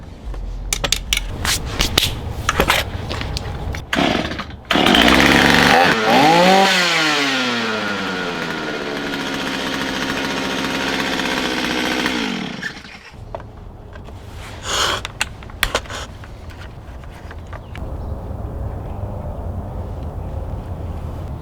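Chainsaw with a freshly cleaned bar oiler starts up and runs loud and close for several seconds, its engine revving up and settling into a steady whine, then cutting off, with scattered handling clatter before and after.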